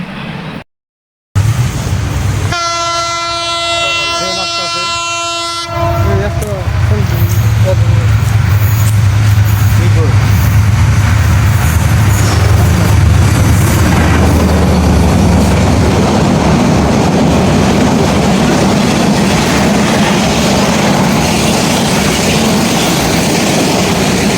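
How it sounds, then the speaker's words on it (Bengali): A train rumbles past right beside the railway line during an evening walk, a loud steady roar of wheels and carriages that runs on for about twenty seconds after a brief horn-like tonal blast. "এই দিক দিয়ে ট্রেন আসতেছে আর আপনাদেরকে ট্রেন আসার সেই দৃশ্যটা দেখামো"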